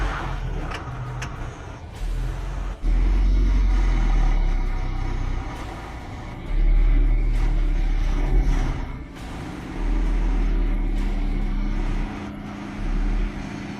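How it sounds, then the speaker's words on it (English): Hongqi IIHS 9 SUV grinding up a steep, wet, slippery mud hill off-road, its engine droning loud and close with surging revs in repeated bursts as the wheels fight for grip. "the Hongqi IIHS 9 faces a new obstacle, a steep, slippery mud climb where traction becomes everything, its wheels fighting for grip"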